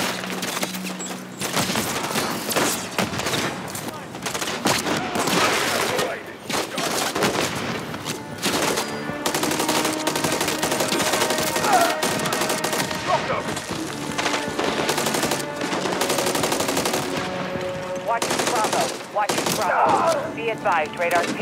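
A sustained firefight in Call of Duty: Modern Warfare 3 rattles with dense, continuous automatic gunfire and scattered heavy booms, loud and close throughout, with voices occasionally speaking over it.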